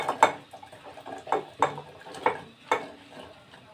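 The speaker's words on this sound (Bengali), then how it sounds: "এবার এই ধুয়ে রাখা কচু শাকগুলো আমি দিয়ে দিচ্ছি এভাবে সেদ্ধ করতে দিয়ে দিলাম" Washed taro leaves are dropped into a pot of salted water and stirred, giving a series of soft, close scraping and rustling strokes in an uneven rhythm, with a few louder knocks against the pot.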